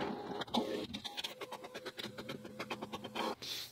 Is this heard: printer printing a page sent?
yes